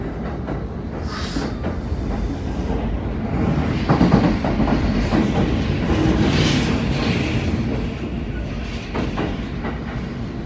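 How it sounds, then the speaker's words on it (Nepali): A train arrives at a station in Osaka, a loud steady rumble of wheels on rails with rhythmic clacking, brake noise and a hiss rising around the middle before it eases. "आयो ट्रेन"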